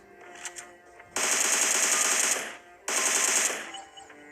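Two sustained bursts of rapid automatic gunfire from a weapon picked up in a battle royale video game, each lasting over a second, loud and close with a brief gap between them.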